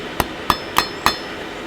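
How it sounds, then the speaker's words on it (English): A blacksmith's hammer strikes hot metal on an anvil four times at an even pace, each blow a sharp, close metallic clang with a short ring and quiet pauses between. "Hammer down"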